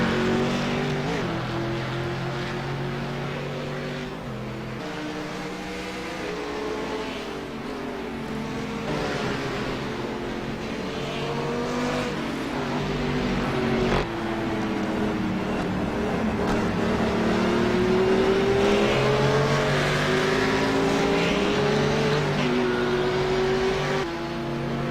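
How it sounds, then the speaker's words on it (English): Race cars, among them a Cadillac CTS and a BMW, run on a circuit with a steady, sustained engine roar whose pitch rises and falls as they pass and accelerate, loud and continuous throughout. "On Jimmy Eifling in the Cadillac CTS, passing very clean"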